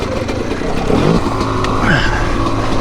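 A 2022 TM Racing EN300Fi motorcycle engine runs nearby, rising and falling in pitch as it revs through a couple of throttle sweeps, with mechanical rattle beneath a steady loud drone.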